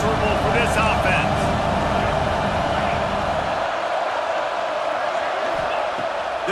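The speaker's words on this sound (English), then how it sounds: "This crowd trying to make life miserable for this offense." Roaring stadium crowd at a Tennessee vs Missouri college football game, a loud, dense wash of cheering that eases slightly toward the end, with a commentator talking over it.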